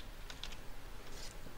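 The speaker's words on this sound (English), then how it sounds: "we just type in the name of our file" Light typing on a computer keyboard while entering a file name in HTML code, a short run of soft, quick keystrokes close by, with no one talking.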